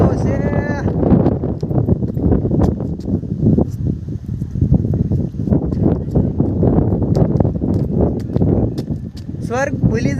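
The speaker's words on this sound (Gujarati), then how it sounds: "પવન બહુ છે." Strong wind blows across Datar mountain near Junagadh, a loud, steady roar and buffeting on the microphone that lasts throughout, with brief bits of voice at the start and end.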